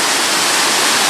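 A river rushing through a village in Betws-y-coed, a loud, constant roar of white water close by with no pause and no voices.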